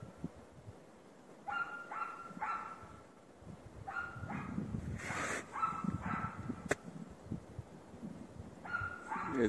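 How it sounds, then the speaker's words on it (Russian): A four-month-old Russian hound puppy squeals and yips in repeated short bursts while trailing a hare outdoors, the high-pitched cries coming in clusters at moderate distance against a soft background. "Это первые писки по зайцу."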